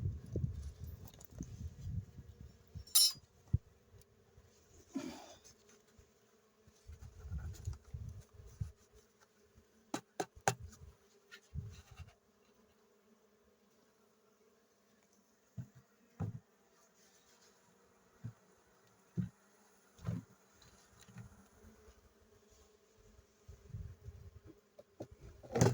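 Honeybees buzz faintly around an opened beehive during an inspection, a soft steady hum broken by brief close fly-bys, occasional knocks and handling sounds, with no talking.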